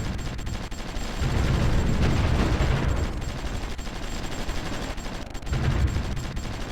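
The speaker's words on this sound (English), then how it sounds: "They're now bombarding our infantry over here." Artillery bombarding infantry in the Supreme Ruler Ultimate strategy war game, with a dense, continuous barrage of gunfire and rumbling blasts, swelling in heavier bursts over a constant battle din.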